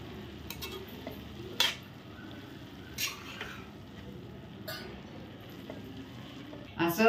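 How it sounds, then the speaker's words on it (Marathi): Radish and radish greens stirred in a pan, a soft continuous sizzle with a few sharp scrapes and clinks of the spoon against the pan at irregular moments, close and moderately loud. "आता आपण झाकण काढून एकदा परत ते ढवळून घेऊया"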